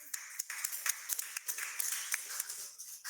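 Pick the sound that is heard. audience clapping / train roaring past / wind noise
audience clapping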